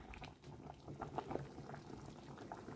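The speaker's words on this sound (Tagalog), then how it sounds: "Buti naman at kumulo na rin po siya." Quiet, steady bubbling of water at a rolling boil, with soft irregular pops and gurgles close by.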